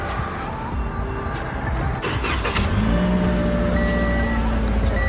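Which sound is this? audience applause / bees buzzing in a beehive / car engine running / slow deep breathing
car engine running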